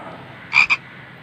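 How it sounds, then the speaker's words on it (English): A frog gives two quick, close croaks, the first longer than the second, standing out clearly above a soft hiss of background noise. "Frog croaks."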